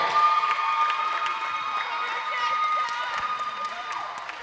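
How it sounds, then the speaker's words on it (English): Crowd at a netball match between Jamaica and Trinidad and Tobago applauding and cheering the player of the match, moderately loud and steady, with scattered shouts and voices through it. "A round of applause for me."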